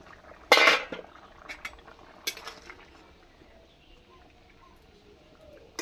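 A metal lid clanks loudly as it is lifted off a pot of simmering rui fish curry with ridge gourd and potato, followed by a lighter clink and faint bubbling in a quiet kitchen.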